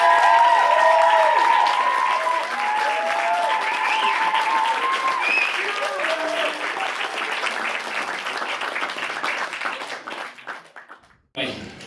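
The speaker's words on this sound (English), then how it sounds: "I want a round of applause for Roche." Wedding guests give the couple a sustained round of applause, dense close clapping with cheers and whoops over it, slowly thinning out near the end before a brief bump of noise.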